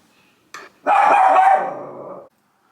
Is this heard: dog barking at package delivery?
yes